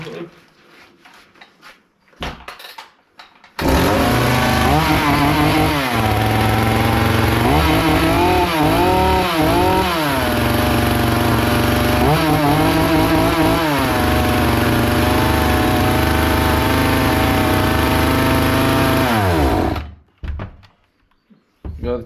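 A Hyundai 450 chainsaw engine runs at high revs, a loud, steady two-stroke whine with wavering pitch sweeps that starts abruptly after a few seconds of quiet and cuts off near the end.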